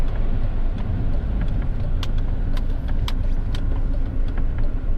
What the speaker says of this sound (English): Driving along, the other thing I've noticed is just how quiet the car is.